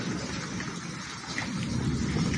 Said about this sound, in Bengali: আর এখনো আকাশ শব্দ করতেছে।